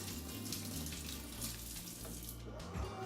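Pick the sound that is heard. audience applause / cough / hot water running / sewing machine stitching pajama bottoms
hot water running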